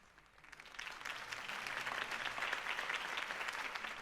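Crowd applause in the Batman: The Telltale Series video game, a sustained dense clapping that swells in after a soft start and holds steady at moderate volume for several seconds.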